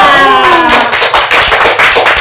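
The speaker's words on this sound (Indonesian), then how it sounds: "Sini pokoknya mau sering-sering saya tepuk tangan." Hand clapping from an audience at a documentary show, loud and continuous, a dense run of claps following a brief stretch of voices.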